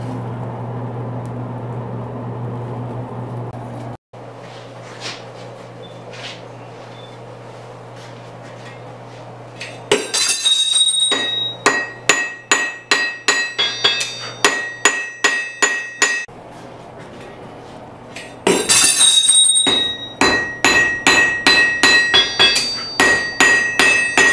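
Hammer blows on a blacksmith's anvil making a forge weld, loud ringing strikes in two quick rhythmic bursts of about a dozen hits each, preceded by a steady low hum of the forge fire.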